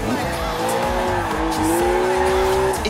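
A rear-wheel-drive BMW drifting in the racing game Forza Horizon 4: a loud, continuous engine drone with a sustained, rising tire squeal as the car slides through a turn.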